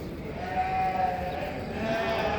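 Lambs bleating at a small-livestock market in Çorum, Turkey, one drawn-out wavering bleat standing out over a busy crowd murmur, with other sheep faintly audible in the background.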